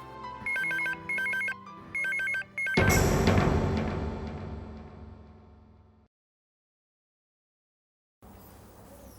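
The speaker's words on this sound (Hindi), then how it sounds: "राज के मोबाइल पर फोन लगाते हैं।" A phone rings as a call goes to a mobile: several short bursts of electronic ring tone, followed by a loud swelling musical hit that fades out, silence, then faint ambience.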